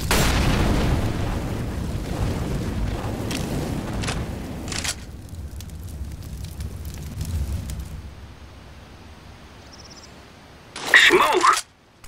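Incendiary grenade in Counter-Strike, a low rumbling whoosh of fire burning for several seconds before fading, with a brief loud burst near the end, mixed with game noise and talk.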